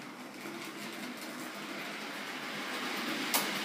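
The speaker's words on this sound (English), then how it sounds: "the train is now running at 75 miles an hour" A Hornby model train runs along its track at scale speed, a steady close mechanical whir with faint rhythmic clicking that slowly grows louder, ending with a brief sharp click.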